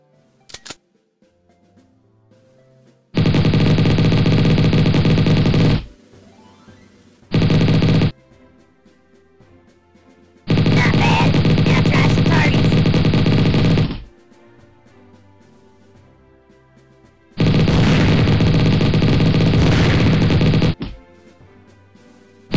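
Gunfire from the Mini Militia mobile shooter game comes in four loud sustained bursts of rapid automatic fire, each lasting a few seconds and separated by short quiet gaps with faint game ambience.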